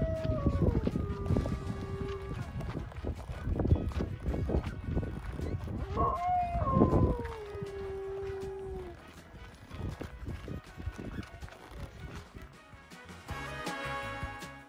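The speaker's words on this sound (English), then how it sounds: "Echo started to do his dingo howl" A dog gives a long, dingo-like howl at an outback camel farmstay near Silverton, two drawn-out wavering, falling wails over rustling movement and background noise, with people talking nearby.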